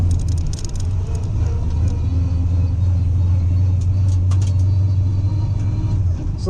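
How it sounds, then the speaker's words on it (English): A race car engine with a corked exhaust rumbles low and steady, muffled and fairly loud, holding a constant deep drone throughout with faint higher noises on top. "If the car sounds quiet, it's because we didn't uncork the exhaust"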